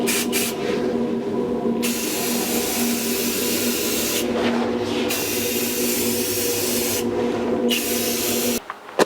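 A spray can puts a final coat of black paint on the air cleaner of a 1982 Jeep CJ7, making loud, close hissing bursts with brief pauses between passes.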